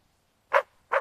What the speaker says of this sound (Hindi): यह है कुत्ता। कुत्ता रखवाली करता है।